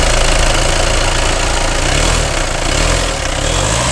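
Skoda Kodiaq Style engine running at idle under an open bonnet, a steady, loud mid-pitched hum with a faint knocking rhythm throughout, close to the listener and with no talking.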